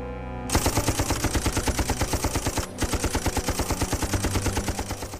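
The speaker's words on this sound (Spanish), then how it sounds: "Las ametralladoras Maxim de Rhodes iban segando una y otra vez a los Matabele que avanzaban." A Maxim machine gun fires in a long, rapid, evenly spaced burst, loud and close, with a brief break partway through before the chattering resumes.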